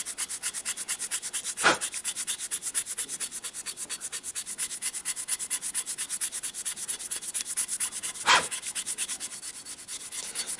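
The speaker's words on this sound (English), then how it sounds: "I didn't realize it was in a box, so I have that rust eraser." A Sabitoru rust eraser scrubs rust from metal in a fast, even back-and-forth rasp. Two louder scrapes break the rhythm partway through, and no one speaks.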